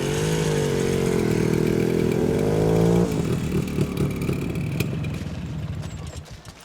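Motorcycle engine revving loudly with a rising and falling pitch, then dropping to a rougher, quieter running sound that fades out.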